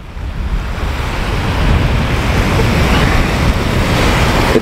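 Waves washing onto a beach on the Isle of Arran, a continuous roaring surf mixed with wind buffeting the microphone, loud and close, swelling slightly over a few seconds with no voices.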